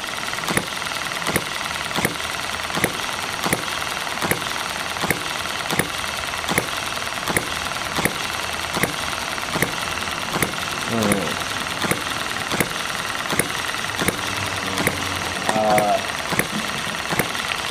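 A Porsche M96 engine runs with an HM-01 part fitted and softer springs, a loud, close, steady idle with a sharp regular ticking knock about every half second throughout, with a brief faint rattle near the end.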